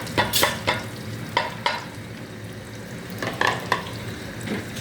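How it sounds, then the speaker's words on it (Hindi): Onions frying with pumpkin and cumin in a pan: a steady close sizzle with several sharp stirring scrapes and clatters, no talking. "अब मैं इसमें ये प्याज डालूँगी।"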